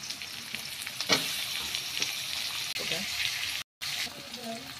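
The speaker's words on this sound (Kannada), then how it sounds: "ನೀರುಳ್ಳಿ ಎಡ್ಡೆ ಫ್ರೈ ಆಂಡು ಟೊಮೆಟೊ ಪಾಡಂಗ" Onions and tomato sizzle and fry in a pan, a faint steady hiss with occasional stirring clatters, while someone talks quietly over the cooking.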